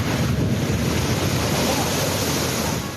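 Cyclone Tauktae brings strong wind and rough sea toward the Gujarat coast, heard as a loud, unbroken roar of gusts and surging waves with heavy wind noise on the microphone.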